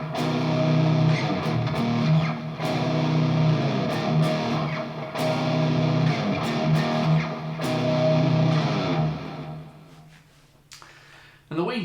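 Dark halftime 4/4 section of a metal song, heavy distorted guitars and drums grinding at a slow, weighty pulse with sharp accented hits, loud throughout before thinning out near the end.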